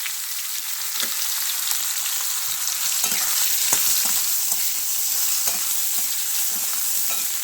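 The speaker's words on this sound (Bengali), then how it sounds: "তিনটে শুকনো লঙ্কা দিলাম পাঁচ ফোড়ন আম খেতে পারে আমাদের ভেজে নেবো" Three dried red chillies and panch phoron frying in hot oil, a loud, dense sizzle with rapid crackling spits and occasional stirring knocks, steady throughout with no talk.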